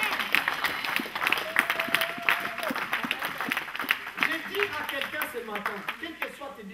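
A church congregation claps and cheers in a large hall, a dense patter of applause with voices rising over it and talk mixed in throughout.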